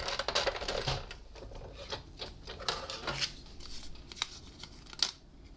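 Hand-cranked die-cutting machine rolling cardstock through a T-shirt framelit, giving a quiet, close, steady scratchy rasp with small clicks and creaks as the plates feed through.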